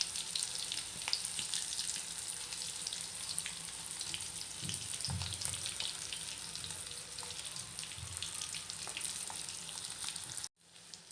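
Bitter gourd deep fries in hot oil with a constant bubbling sizzle, a few low knocks and scrapes as pieces are turned, alone and steady until it cuts off abruptly near the end.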